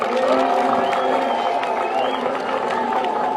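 Crowd at a political rally in Kenya, a dense steady wash of clapping and cheering voices that holds loud throughout, with some talk mixed in.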